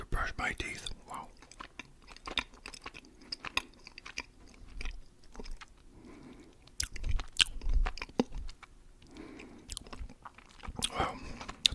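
Close, wet chewing of a Tootsie Roll candy, with soft irregular smacks and bites broken by short pauses, recorded intimately against a quiet background.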